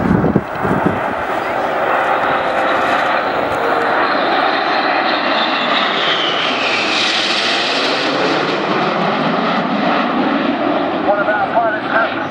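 Red Arrows aerobatic jets trailing smoke roar overhead in formation at an airshow in Portrush, a loud sustained engine sound that swells and slowly shifts in pitch as the aircraft pass, with a commentator talking over it.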